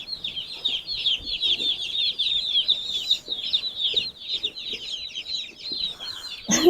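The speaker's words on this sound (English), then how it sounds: "And 70 birds." A flock of about seventy young meat chickens clucks and peeps under a heat light, a busy, continuous chatter of overlapping calls close by, ending with a sudden louder rustle.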